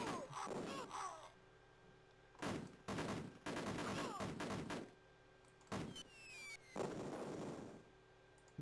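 Machine gun fire in a video game: several loud, rapid bursts of automatic gunfire, with short gaps between them and a whistling shot near the end.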